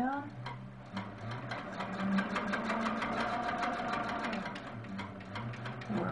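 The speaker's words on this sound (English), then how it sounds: "Work up that line of stitching." A sewing machine quilts along a line of stitching on an outer border, its motor whirring with a fast, even needle rhythm throughout while a voice talks over it.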